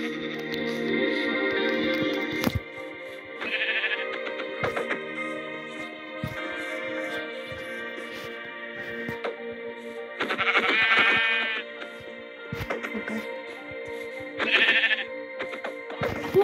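Sheep in the video game Minecraft bleat in several short bursts spread across the stretch, standing out above a sustained tonal musical backdrop with occasional sharp clicks.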